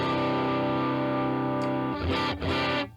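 A distorted electric guitar riff plays alone through a Line 6 Helix amp modeler using the Divided Duo amp model, with heavy drive, sustained chords before choppier strums near the end.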